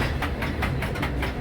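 A train rolls past close by, with steady heavy rumble and a regular clickety-clack of wheels over rail joints, loud and unbroken.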